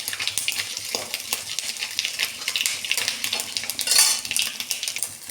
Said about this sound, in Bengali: সর্ষে ফোড়ন দিলেই ছিটকাবে